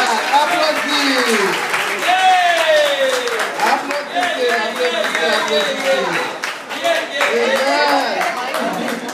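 A church congregation at a pastor and leaders' appreciation ceremony claps and cheers loudly and steadily, with voices calling out and talking over the applause throughout.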